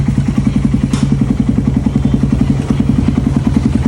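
A Suzuki Raider 150 carbureted motorcycle engine idles nearby with a steady, rapid throbbing pulse and a faint rattle, loud and continuous.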